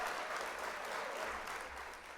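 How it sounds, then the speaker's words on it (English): A canned applause sound effect plays on a live model-building stream, a continuous crowd of clapping hands held at a fairly low, even level for a couple of seconds with no talking on top. "So I'm going to hit applause right now."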